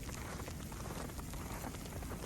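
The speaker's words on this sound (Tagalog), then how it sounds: "parang feeling na pumapatak na malakas na ulan" Heavy rain falls steadily during a snowstorm, a dense, continuous wash of drops drumming on surfaces close by, with no voices.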